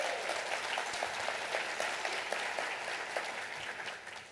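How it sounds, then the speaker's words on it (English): A conference audience in Chicago gives the conference chair a round of applause, an even, moderately distant clatter of many hands that holds steady and thins slightly at the close. "Everybody give Sabrina a round of applause."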